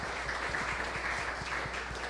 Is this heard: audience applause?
yes